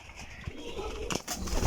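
Pigeons coo at a loft of flying pigeons kept by a fancier, soft rolling calls rising and falling over a noisy yard background, with a couple of louder bursts near the end.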